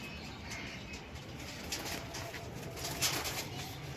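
Soft cooing of flying pigeons over a steady outdoor background hum, with a slightly louder burst near the end.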